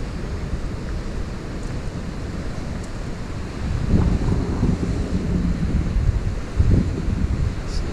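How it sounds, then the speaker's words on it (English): Ocean swell breaking along the Cornish coast from a clifftop path, heard as a broad distant roar of surf mixed with gusting wind on the microphone, swelling louder partway through. "Big old swell out there today."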